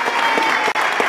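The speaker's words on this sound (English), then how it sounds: "So round of applause for Alan and Cheryl Gerard." A brief burst of audience applause at a local radio awards ceremony, dense, even clapping filling the room for about a second.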